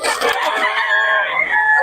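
A gamecock crows once at a rooster sale, loud and close, a single drawn-out strained call lasting nearly two seconds.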